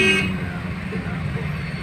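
A car horn honks in congested city traffic, a bright tone at the start over a steady roadway drone of idling and creeping vehicles.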